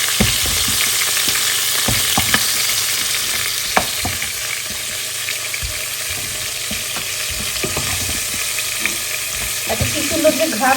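Cauliflower florets fry in a pan with a loud, constant sizzle and frequent scraping, knocking stirs of a spatula, the crackle close and busy for the whole stretch.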